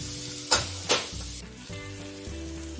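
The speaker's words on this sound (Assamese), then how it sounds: "মাংসখিনি ভালদৰে ভাজি লম। মাংসখিনি আমি অকমান ভাজি পেলাই ঢাকনাখন লগাই দিম।" Local chicken meat frying in a pan for a curry-leaf chicken dish, a steady sizzle broken by two sharp stirring clatters near the start, with soft music underneath.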